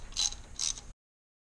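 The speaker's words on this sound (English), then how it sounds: "get you a 5/8 spark plug socket and extension" A ratchet fitted with a 5/8 spark plug socket and extension on a 2001–2005 Honda Civic, giving two quick, faint clicking bursts close by before falling silent.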